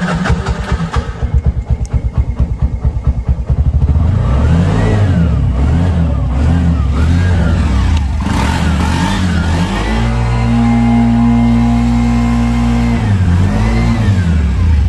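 A 2020-model 225cc CNG auto-rickshaw engine runs up close and loud, chugging unevenly at first, then revving up and down before settling into a steady, droning idle.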